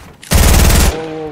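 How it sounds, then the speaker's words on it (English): Automatic gunfire in the video game Fortnite rattles out as a loud, rapid burst of about half a second, then cuts off, leaving a faint tonal game hum behind. "Whoa, whoa, gun shooting."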